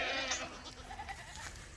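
Several goats bleat close by on a farm during a morning move through woodland grazing, their cries rising and falling over the 2 seconds with soft rustling underneath.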